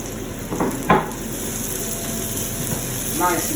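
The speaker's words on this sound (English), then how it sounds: "I put some olive oil in the pan, and now I'm going to add my shallots and some crushed garlic" Shallots and crushed garlic fry in olive oil in a pan for a rabbit dish, a steady close sizzle with a couple of stirring clatters.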